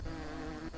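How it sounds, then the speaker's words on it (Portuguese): Dense, steady insect buzzing from a swarm of bees in the video game Hungry Lamu, continuous and fairly loud throughout with no pauses. "Por que tem tantas abelhas?"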